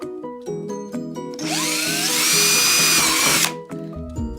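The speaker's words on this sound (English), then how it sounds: "We're gonna drill a few holes down low." A power drill whirs up and bores a hole low in a potato-growing bucket for about two seconds, loud and close, with a high whine, then stops; musical background plays throughout.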